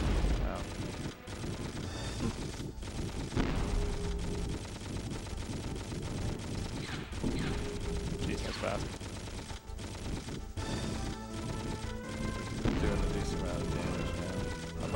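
Rapid gunfire from the nose gunner in the N64 game Knife Edge: Nose Gunner, steady and dense across the whole stretch alongside game music and effects, with bursts of impacts and crashes mixed in.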